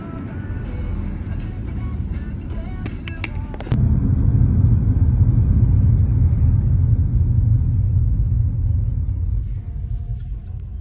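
A car driving on the road from Edinburgh to Glasgow, heard as a steady low engine and road rumble that grows slightly louder partway through and holds as a continuous drone.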